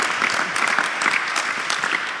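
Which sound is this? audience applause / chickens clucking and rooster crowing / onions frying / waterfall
audience applause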